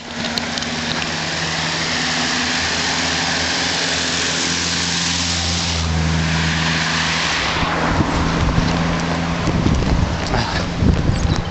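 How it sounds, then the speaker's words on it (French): Vehicles pass on a road near La Turbie, a close engine drone that swells and recedes, with wind buffeting the microphone throughout. "il y a des véhicules qui arrivent"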